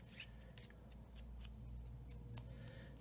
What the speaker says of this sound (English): Cut these down just a little bit.